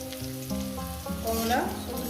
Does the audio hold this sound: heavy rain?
no